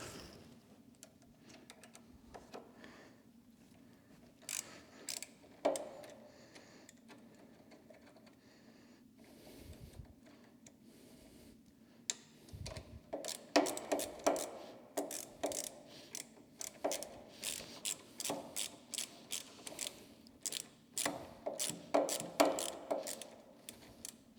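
A ratchet backs out the bolts on a Harley Davidson Sportster derby cover, with quiet handling at first, then bursts of rapid clicking pawl strokes up close, growing busier toward the end, with no speech.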